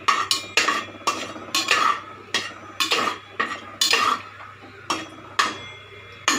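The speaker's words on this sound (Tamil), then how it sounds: "போட்டுட்டு நல்லா இப்போ இதை நல்லா நம்ம வந்து ஃப்ரை பண்ணிக்கலாம்." Fennel and cumin seeds fried in a pan and stirred with a spatula: sharp, evenly spaced scrapes and clinks against the metal over a low background hum, with no voices.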